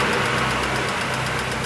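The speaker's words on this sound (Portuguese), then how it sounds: "Meu carro bate tucho." A car engine running steadily with a knocking hydraulic tappet, a continuous close mechanical drone with fine rapid ticking, no voices.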